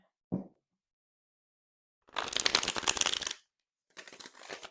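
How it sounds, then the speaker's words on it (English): Cards riffle in a quick papery burst lasting about a second, followed by a shorter softer shuffle, with a brief knock before and silence between. "Shuffles nicely."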